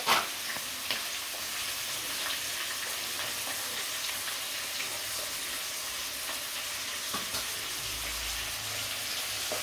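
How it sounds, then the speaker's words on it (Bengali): Onions frying in hot oil with whole garam masala spices such as cumin, cardamom and cinnamon, browning in a pan. A steady, soft sizzle runs throughout with occasional faint clinks of stirring, no voices. "পেঁয়াজ দিয়ে তো ভালো করে মানে ভাজবো লাল লাল"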